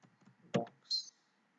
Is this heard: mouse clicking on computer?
yes